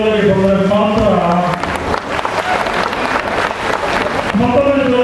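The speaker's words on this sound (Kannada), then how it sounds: "ನಿಮ್ಮ ಚಪ್ಪಾಳೆ ಜೋರಾಗಿ ಬಂದರೆ ಮಾತ್ರ" An audience at a felicitation ceremony for ex-servicemen and disabled people breaks into loud, sustained applause, with someone speaking into a microphone just before and after.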